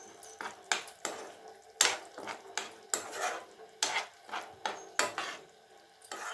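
Garlic chutney with coriander leaves being stirred in a pan: a spoon repeatedly scrapes and clinks against the metal, giving irregular close knocks with soft sizzling in between.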